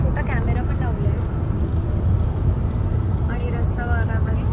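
Steady broadband road rumble from a five-seat car cruising with a group of passengers inside, continuous and fairly loud throughout, with people talking over the drive.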